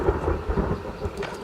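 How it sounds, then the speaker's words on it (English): Steady rain with a low rumble of thunder in the survival game The Forest, a dense wash of noise holding at a moderate level throughout with no voices. "A lot of rain here."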